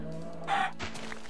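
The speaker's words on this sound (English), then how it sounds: "There's another chicken." A chicken in the video game Minecraft lets out a single short cluck, close and fairly clear, against quiet game ambience.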